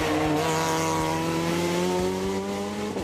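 An Opel Adam Cup R2 rally car at the 2013 Rallye du Var roars past at high revs, its loud, sustained engine note holding steady and edged with tire squeal.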